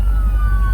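An ambulance siren sounds as a steady tone held loud over heavy low road rumble while passing, heard from inside a moving vehicle in a truck convoy.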